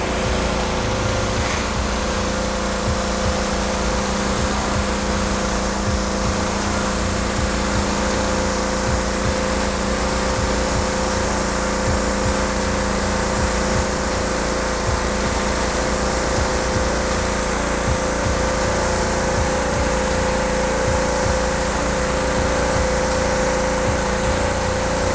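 A BE V7 gas pressure washer engine runs loud and close with a steady, unbroken drone that holds at an even pitch throughout.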